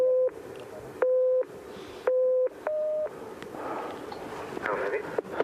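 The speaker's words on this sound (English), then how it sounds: "now you know for this test, David, you're going to try and count the low tones and ignore the high tones" Pure electronic test tones sound in short steady bursts, a lower and a higher pitch alternating, during a hearing-style counting test at a 6,500-metre camp on Everest, with breathy background noise between beeps.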